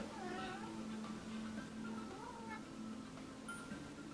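Cats meow during online multiplayer gameplay, several high wavering calls rising and falling over a steady electronic drone and game noise, fairly close and moderately loud.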